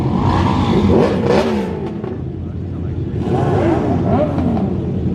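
Motorbikes revving and riding off after a car meet, loud engine roar and rising revs filling the clip at close range, dipping briefly in the middle before surging again, with voices faintly underneath.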